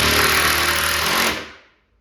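A power driver buzzes briefly as it drives a screw through plywood into a wooden cleat on an arcade cabinet build, a short, loud, rattling whir that winds down and stops after about a second and a half.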